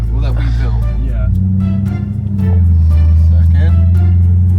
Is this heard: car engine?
yes